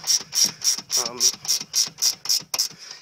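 A ratchet wrench clicks in a rapid, steady rhythm, roughly ten crisp ticks over three seconds, as it drives the four front bolts into a wooden seat box. The sound is close up and has no talk over it.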